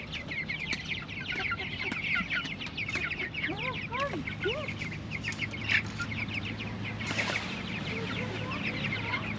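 Backyard chickens cluck and cackle in a busy, overlapping chorus close by, with other birds chirping faintly in the background and a voice speaking softly underneath.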